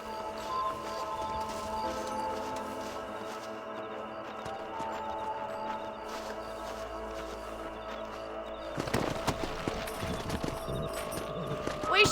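Horse hooves clip-clop steadily in a Western ranch video game as a rider mounts back up and moves on, a rhythmic trot under game music and voices, growing busier and louder near the end.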